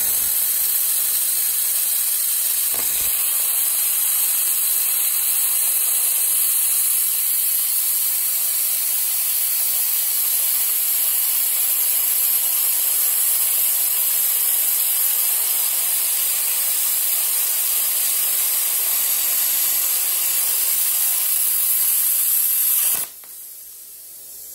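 A LOTOS LTP5000D plasma cutter running at 50 amps on 220 volts slices through 1/2-inch steel flat bar, a loud continuous hissing roar that holds steady for over twenty seconds before cutting off abruptly, with no talking.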